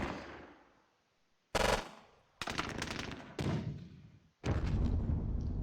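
Gunfire exchange in the video game Squad Battles: loud, abrupt bursts of automatic fire that start and stop in several blasts, each ringing out before the next volley.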